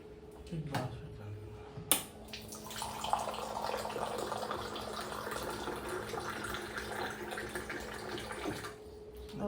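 A water purifier with an automatic sensor dispenses water into a glass, giving a steady, close pouring rush for about six seconds. A soft click comes before it, and a faint hum runs through the whole pour.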